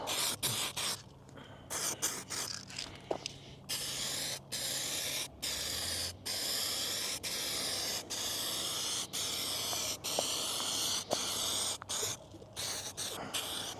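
Aerosol spray can applying gray paint to an RC A-10 jet model outdoors in still air, with repeated long hissing bursts broken by short pauses, close and fairly loud.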